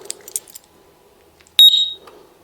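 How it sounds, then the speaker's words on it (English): A Datatool System 3 vehicle alarm gives a short, sharp, high-pitched electronic chirp, loud and close, preceded by faint clinks and handling noises. "The battery is still connected and the alarm is live."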